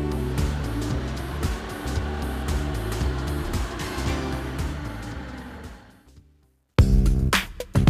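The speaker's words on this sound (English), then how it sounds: "Release the parking brake and depress the accelerator pedal to move forward." Forklift pulling forward after the parking brake is released, its engine a steady low rumble with a rhythmic pulse that fades out around six seconds, followed by a loud burst of clattering mechanical noise near the end.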